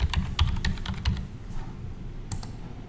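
A user name is typed on a computer keyboard in a quick run of crisp, close key clicks, then a pause and a brief final pair of taps, with no talking.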